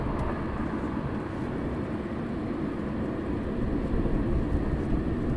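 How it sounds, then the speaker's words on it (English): F-15 fighter jets passing overhead at night near an airport, a broad, low rumbling roar that stays steady and fairly distant throughout. "What's that going over the top? Hey, F-15s."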